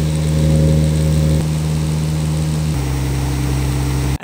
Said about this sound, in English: the higher the speed, the more vibration noise we get because the bottoms are not treated at all